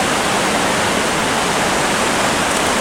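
Loud, unbroken roar of Silver Creek Falls waterfall in an Oregon state park, a dense broadband rush heard up close and steady throughout, no talking.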